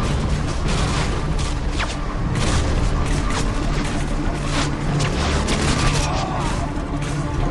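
Dense, continuous gunfire rattles in Call of Duty Modern Warfare 2, with bursts of automatic fire and booming impacts overlapping loudly from start to finish.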